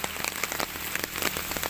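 Steady rain falls on an outdoor surface after a night of heavy rain, a dense, even patter with scattered brighter drops throughout and no voices.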